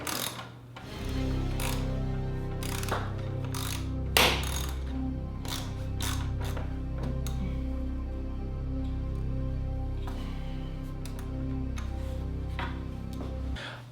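A ratchet wrench loosens a bolt on a wrecked Ducati Monster 1100. Close, quick mechanical clicking runs over a steady hum, with a few sharper knocks along the way.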